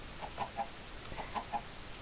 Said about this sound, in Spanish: decidió crear a las gallinas.